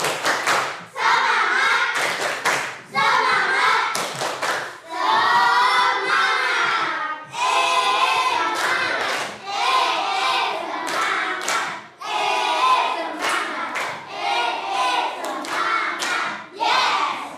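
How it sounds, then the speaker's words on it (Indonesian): A classroom of schoolchildren claps out a rhythmic clapping chant in bursts of loud, unison claps, broken by stretches of chanted or sung voices, then more clapping patterns. "Coba tepuk semangat."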